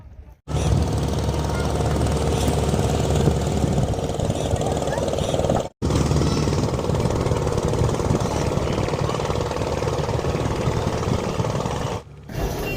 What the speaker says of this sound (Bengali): দেখতে পেলাম যে ট্রলারটি এবার ঘাটে আসছে